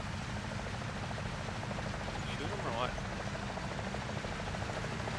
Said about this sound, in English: Ah, there is a chopper too.